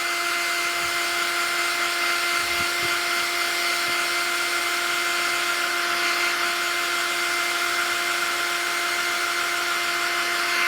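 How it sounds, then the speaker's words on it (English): A hairdryer blows steadily on a watercolour painting with a granulation medium, a loud continuous whirring hum with a fixed motor whine, held throughout with no talk. "blast it with a hairdryer"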